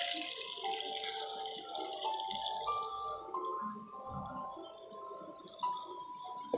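Water poured into a measuring jar while preparing a 1% sodium hypochlorite cleaning solution, a steady trickling and splashing with rising ringing tones as the jar fills, close and fairly quiet.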